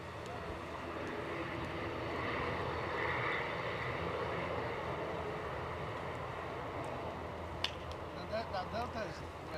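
A Boeing 767 airliner takes off at Edinburgh airport, its engines a steady, broad jet roar at moderate distance that holds throughout, with faint voices and a sharp click near the end.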